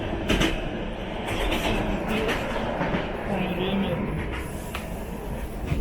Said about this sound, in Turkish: Buradan tren geçti.